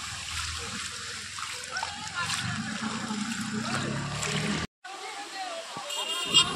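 Floodwater splashes and sloshes in front of a house where people are fishing, a continuous broadband wash of water under faint talk, with a brief dropout near the end.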